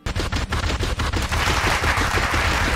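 Loud, rapid bursts of gunfire from a weapon firing Stroyent ammo in a Quake 4 style sci-fi setting, a dense continuous rattle like machine-gun fire dominating throughout.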